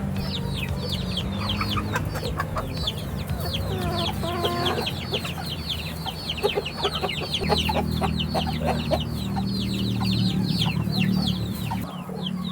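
Chickens in a poultry house cluck and chatter continuously, many birds calling at once close and far, over a steady low mechanical hum.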